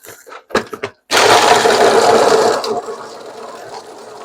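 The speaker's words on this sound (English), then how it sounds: "Now what we need to do is blend." A kitchen blender whirs loudly through a drink mix for about a second and a half, then drops to a lower, steadier run before winding down; a few short knocks and handling sounds come just before it starts.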